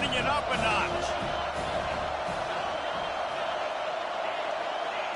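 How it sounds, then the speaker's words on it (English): Stadium crowd noise in a college football video game, Tennessee versus Michigan, a steady broad roar that holds loud and even throughout, with a faint voice briefly underneath at the start. "this crowd is turning it up a notch"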